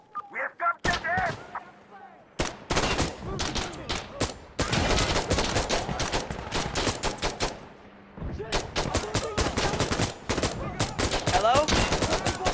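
Rapid bursts of automatic gunfire in the video game Insurgency: Sandstorm, loud and close, with dense volleys broken by short pauses and a brief quiet stretch midway, while players shout over the shooting.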